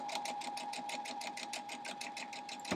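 Domestic sewing machine running steadily while stitching an 8-point star quilt block, a fast, even needle rhythm close up, continuous and alone with no talk.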